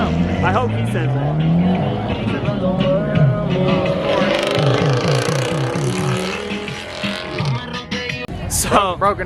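Cars pulling out of an evening car meet, with engines revving and tires squealing loudly in bursts while a crowd talks and shouts nearby.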